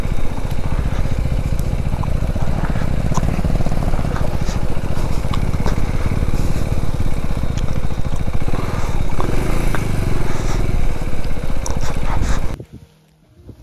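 A motorcycle engine drones steadily on a road trip near Pangong Lake in Ladakh, loud and continuous with wind buffeting, cutting out abruptly near the end.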